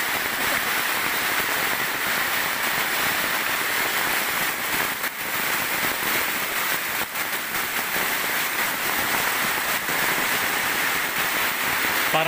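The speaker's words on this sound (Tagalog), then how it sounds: "Biglang lumakas yung ulan ah." Heavy rain pouring down in a steady, dense hiss that holds evenly throughout, with faint thuds now and then and no voices.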